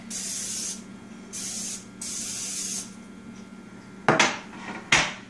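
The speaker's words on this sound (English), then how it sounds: "spray the pan so the cheese doesn't stick" Three hissing bursts of cooking spray onto a baking pan for a potato and cheese dish, each about a second long, followed by two sharp metallic clanks of the pan being set down.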